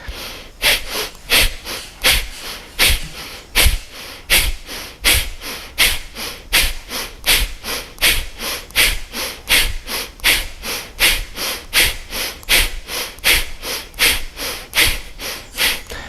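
Fast rhythmic yoga breathing exercise, sharp forceful exhales repeated steadily about twice per second for sixteen seconds, close and loud with no talking.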